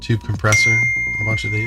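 Someone talks while a thin, high electronic tone sounds steadily beneath his voice, like a phone alert ringing briefly.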